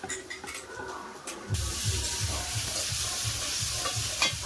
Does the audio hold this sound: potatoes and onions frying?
yes